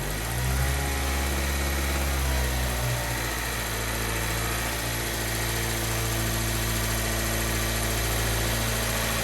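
A car engine with a misfire holds a steady throttle around 2,000 RPM, giving a continuous, even drone close by that settles slightly in pitch after the first few seconds, with no one talking.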